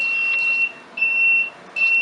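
An electronic alarm beeps on an electric home brewing setup during an ESB brew day, sounding three loud, sustained high-pitched tones separated by short gaps, with nothing else audible.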